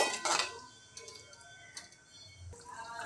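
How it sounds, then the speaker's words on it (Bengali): Water and curry masala being stirred in a cooking pot for a chhanar dalna, with a spoon clinking and scraping against the metal in irregular bursts, moderately loud and close, with no talking. "এবার এতে আমি জল দিয়ে দেবো ভালো করে নেড়ে ফুটিয়ে নেব"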